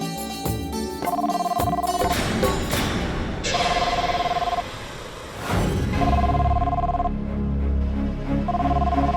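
Telephone ringing in a drama scene, several short repeated rings in bursts among thumps and a swoosh, moderately loud over a busy background.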